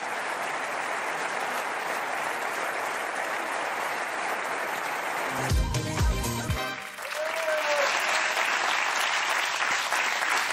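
A large audience gives sustained, dense applause for a standing ovation at the Cannes Film Festival. The clapping pauses briefly while a different louder noise cuts through, then resumes at full strength.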